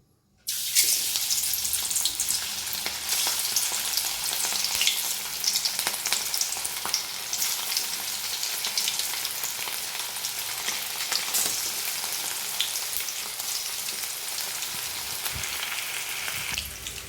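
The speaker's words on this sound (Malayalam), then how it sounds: "ഇപ്പം നമ്മൾ സവാള വറുത്ത എണ്ണ കേട്ടോ അപ്പം നമുക്ക് ഞാനതിൽ കുറച്ച് ആദ്യം കറിവേപ്പ് ഇട്ട് കൊടുക്കാം" Curry leaves hit hot oil left from frying onions and burst into a loud, dense, crackling sizzle that starts suddenly and keeps a steady roar throughout.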